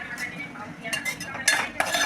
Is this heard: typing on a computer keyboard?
no